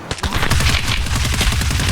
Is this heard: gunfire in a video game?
yes